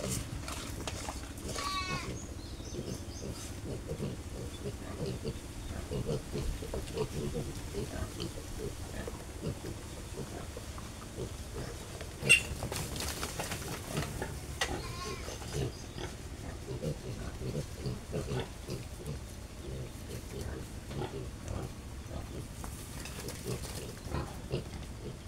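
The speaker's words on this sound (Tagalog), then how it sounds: "Naghihintay na ang ating mga biik." Newly weaned piglets squeal and grunt steadily at close range while they wait to be given a powder dewormer, a busy pen of overlapping snorts and cries with a few louder squeals.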